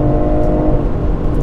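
A car engine runs steady and loud up close, holding a droning, even rev for a brief moment with no pauses and no one talking.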